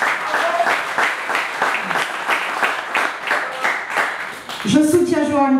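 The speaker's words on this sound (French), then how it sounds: "je vous demande de l'applaudir" An audience at a municipal campaign meeting applauds in a sustained, moderately loud wash of clapping, with a voice rising over it near the end.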